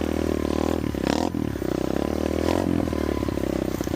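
A restored mini bike's small engine runs steadily nearby, a continuous buzzing drone with a few brief scraping, rattling surges as it is ridden.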